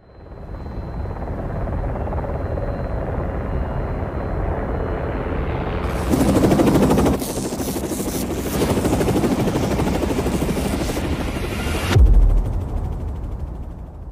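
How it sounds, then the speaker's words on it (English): A helicopter's steady rotor thrum and engine roar fill the air continuously over a football stadium in Lubbock, swelling louder a couple of times as it passes overhead. "there was a helicopter that is flying over the AT&T Stadium in Lubbock"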